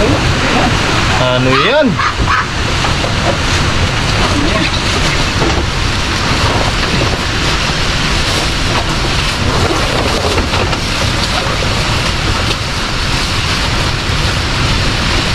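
Heavy typhoon rain and wind lash a vegetable garden growing bottle gourd, okra and string beans in a dense, unbroken roar, and a short spoken question rises over it near the start.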